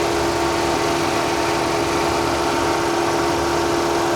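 A Mercedes-Benz diesel car with a small transverse engine idles steadily and close by, a constant mechanical drone with a steady tonal hum and no voices.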